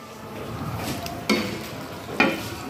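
Creamy, cheesy white sauce pasta is scooped out of a pan, with soft stirring and scraping and two sharper clinks of a utensil against the pan.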